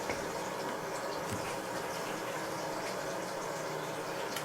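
Wet wood for a guitar side sizzles and steams against a hot bending form, a faint steady crackling hiss with soft bubbling, heard alone and close.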